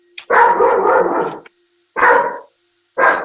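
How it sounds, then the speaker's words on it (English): A dog barking loudly and close in three separate bursts, a long drawn-out bark first and then two shorter ones with pauses of silence between them. "Your dog is making noise."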